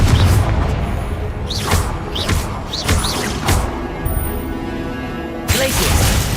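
Confringo fire spells explode in Hogwarts Legacy gameplay: loud, repeated booming blasts with swooshing flares, layered over constant dense game noise.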